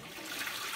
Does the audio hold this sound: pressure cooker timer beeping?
no